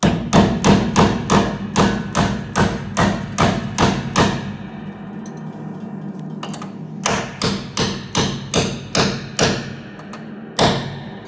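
Steady hammer blows drive a tuning pin into an upright piano during restringing: loud, evenly spaced thuds in two runs, with a short pause in the middle and a single final strike.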